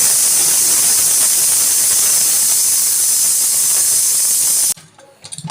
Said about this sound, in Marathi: 3 शिट्ट्या करून घेतलेल्या आहेत